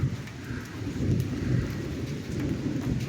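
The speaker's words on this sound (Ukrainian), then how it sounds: "Напустився дощ, не дає." Steady rain pours down outdoors during work on a John Deere 2264 combine, a continuous broadband hiss with low rumbling underneath and no voices.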